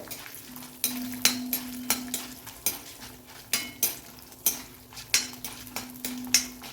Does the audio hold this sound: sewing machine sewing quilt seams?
no